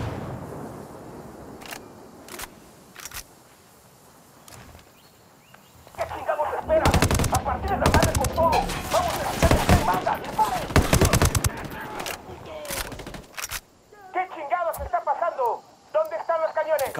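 Submachine gun and mortar fire in the tactical shooter Ghost Recon Wildlands: sporadic single shots, then a loud sustained burst of rapid automatic fire, with radio-style voices talking in between.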